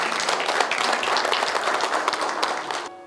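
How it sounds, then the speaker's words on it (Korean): An audience of village heads at a training meeting in Yeoju claps together in a dense, steady round of applause that stays loud for about three seconds before trailing off. "우리 모두 잘하셨다는 의미에서 박수 한번 부탁드리겠습니다"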